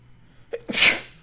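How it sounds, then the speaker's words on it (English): A single sharp sneeze, close and loud, with a short breathy intake just before the explosive burst. "hold on, I have to sneeze"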